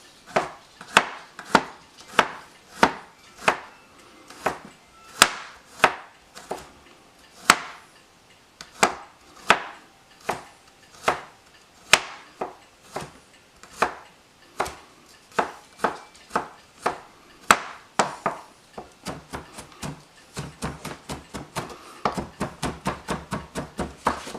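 A knife chops vegetables for pico de gallo on a cutting board, cutting them into smaller pieces. The crisp, close knocks come in a steady rhythm for a long stretch and quicken into a faster run at the end, with no talking.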